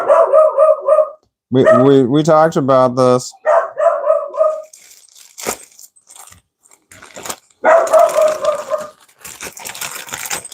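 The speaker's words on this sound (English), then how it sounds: "you're not supposed to bark when we're doing a live stream" A dog indoors barks in several loud, close bursts, some harsh and some yelping, between pauses, while someone speaks over and between the barks.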